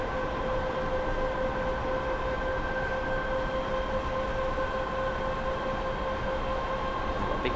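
A train in Train Simulator on the Chatham Mainline runs at steady speed, giving a constant, even rolling drone with a few sustained tonal whines held underneath, unbroken and close.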